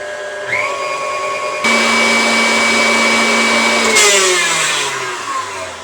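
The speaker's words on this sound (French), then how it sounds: "on va faire monter en neige nos blancs d'œufs" Electric mixer whipping egg whites with salt and cider vinegar, a loud steady motor whine that steps up to a higher speed and then shifts pitch again, continuous and close with no talking.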